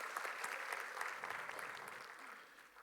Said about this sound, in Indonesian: Kasih tepuk tangan yang meriah buat Tuhan Yesus.